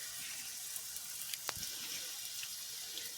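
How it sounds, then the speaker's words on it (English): Sausages frying in a pan: a steady, even sizzle with faint crackles and one brief pop, no voices. "Now I sit here frying these"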